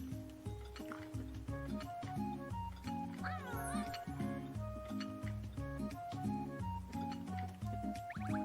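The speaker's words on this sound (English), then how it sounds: "Hey, Thirsty Kitty" A cat meows in the video game Little Dragons Café, a short mewing call near the middle over busy, continuous game music.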